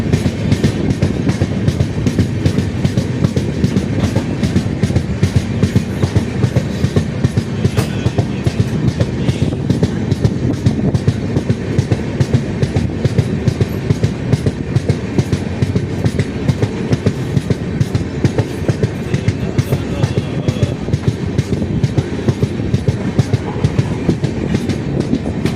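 Indian passenger train hauled by a diesel locomotive running on rails, with a loud, continuous rhythmic clickety-clack of wheels over rail joints and a steady rumble heard from onboard for the whole stretch.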